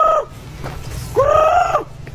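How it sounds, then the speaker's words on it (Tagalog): A chicken calls twice, a short squawk then a longer drawn-out cackle, loud and close over a low steady background hum. "Brad, nakita mo yung manok ko?"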